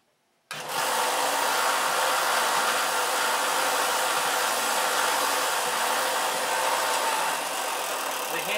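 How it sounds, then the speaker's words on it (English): A belt sander starts abruptly and runs continuously on wooden boat hinges during a boat build, giving a loud, steady high-pitched whirring hiss that holds evenly to the end. "I'm going to have to hit that again with this belt sander."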